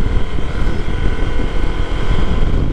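A Honda PCX125 scooter (JK05) engine holds a steady rev at about 5000 rpm, a loud, close, continuous rumbling drone with a rough, buzzing texture and no talk.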